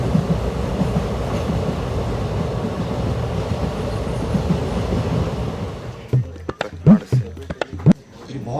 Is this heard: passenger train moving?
yes